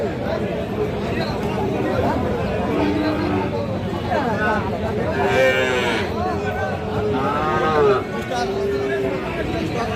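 Young Sahiwal and Gir calves low and moo repeatedly at a busy village cattle market, several calls rising over a steady crowd murmur with people talking nearby.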